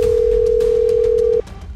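A steady telephone call tone hums loud and unbroken for well over a second, then cuts off abruptly, leaving quieter background noise.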